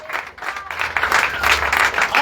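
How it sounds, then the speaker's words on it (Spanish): A church congregation clapping in praise, a dense burst of applause from many hands filling the room, loud and continuous. "Dele palmas de alabanza al Señor"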